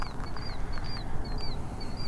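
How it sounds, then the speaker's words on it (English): A distant killdeer gives thin, high calls in a repeated series at night over a steady outdoor background hiss. "Sounds like a killdeer."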